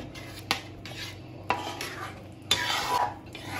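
A spoon stirs thickening rice flour dough in a pot without pause, with sharp metallic knocks against the rim about once a second over a soft, continuous scraping.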